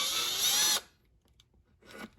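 A power drill whines steadily as it bores through a bike's stripped shock mount, then stops abruptly, leaving near silence before a few short mechanical clicks and handling noises.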